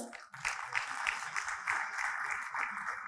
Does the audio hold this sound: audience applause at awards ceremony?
yes